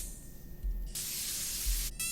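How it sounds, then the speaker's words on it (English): An AI-generated spraying sound effect for an ad: a quiet rumbling lead-in, then a loud, steady hiss of spray lasting about a second, a brief cut and a second burst starting at the end. "We also got all these sound effects, like the spraying down."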